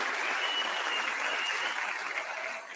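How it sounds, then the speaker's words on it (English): A studio audience claps in a sustained round of applause, loud and steady before tapering off at the end. "Give her a big round of applause."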